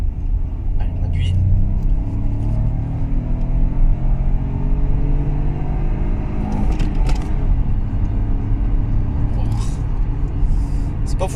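A 2018 Peugeot 3008 with a 1.2 PureTech 130 hp petrol engine pulls hard from around 50 km/h, its engine drone rising steadily under a continuous rumble of road and cabin noise, with someone talking over it.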